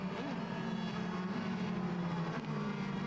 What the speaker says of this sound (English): Pace car comes around